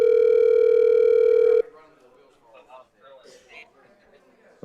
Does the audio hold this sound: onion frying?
no